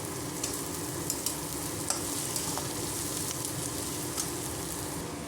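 Ginger garlic paste fries in a hot pan, a dense steady sizzle with scattered light taps and scrapes from stirring, continuous and fairly close.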